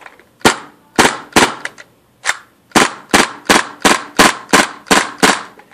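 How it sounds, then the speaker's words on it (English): A KWA Kriss Vector gas airsoft gun fires sharp, loud reports in quick pairs and bursts, about a dozen shots with short pauses between groups. "So I'm going to do some more 2-shot burst."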